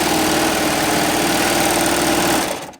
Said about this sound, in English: all I have to do is start sewing again, and it's going to pick up that seam